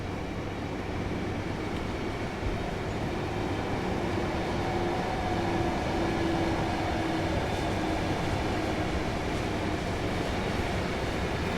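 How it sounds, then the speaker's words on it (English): A freight train rolls past in a German train simulator game on the Kassel–Würzburg line, a steady low rumble and rail drone that holds at an even, fairly loud level throughout, with a faint tonal whine and no talk. "There's another train."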